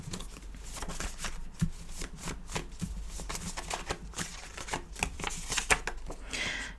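Tarot cards are shuffled continuously at close range, a soft papery riffling and flicking that keeps going with small slaps, over a faint background hum.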